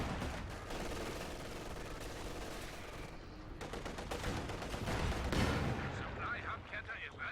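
MG42 machine gun fire in Company of Heroes 2, with steady bursts of rapid shots and heavier booming battle sounds over a few seconds, at moderate volume with faint talk underneath.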